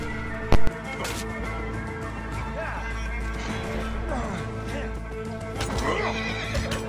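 A horse whinnies and neighs with clip-clopping hooves in the video game Assassin's Creed Origins, heard under someone talking over the gameplay and a sharp brief thump near the start.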